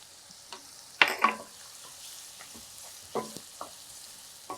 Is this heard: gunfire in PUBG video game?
no